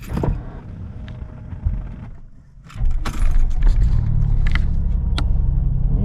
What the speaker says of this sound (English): let's start the car.